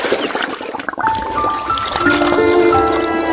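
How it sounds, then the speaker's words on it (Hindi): A cartoon splash as a thirsty animated character topples into a river, watery sloshing and trickling with a few rising whistle-like tones, close and fairly loud. "झट से नदी में गिर जाती है।"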